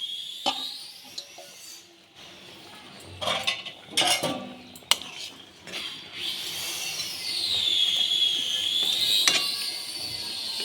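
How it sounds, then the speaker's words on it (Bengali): Pieces of small chara pona fish go into a boiling mustard-poppy curry in a pan, with clinks of utensil against metal and stirring scrapes, then a steady bubbling simmer under a faint high-pitched whine. "মাছের ঝোল ফুটে গেছে এবার মাছগুলো দিয়ে দিচ্ছি"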